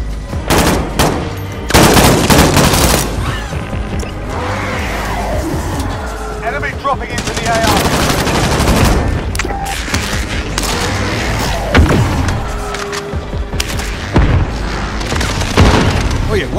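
Heavy gunfire in the video game Call of Duty: Modern Warfare, loud machine-gun bursts and booming blasts through the whole stretch, with soldiers' voices shouting over the combat.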